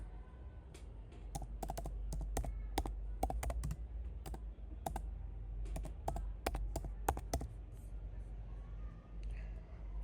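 Keys clatter on a computer keyboard in short bursts of irregular taps, fairly close, over a steady low hum of room noise.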